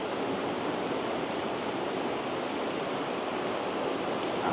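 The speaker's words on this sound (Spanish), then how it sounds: "Aquí ustedes se van a deleitar con esta imagen del río, con el sonido también" A river flows in a steady, full rush of water, broad and constant with no breaks and no voices.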